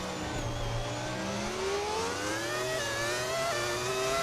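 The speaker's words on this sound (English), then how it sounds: "These engines sound so nice" Formula 1 car engines in the F1 25 racing game whine at high pitch, rising and overlapping as cars accelerate, a continuous loud drone without talk.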